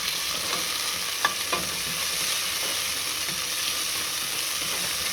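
Tomatoes frying in a pan at home, a steady bright sizzle with a few soft clinks and stirring scrapes, close and continuous, with nobody speaking.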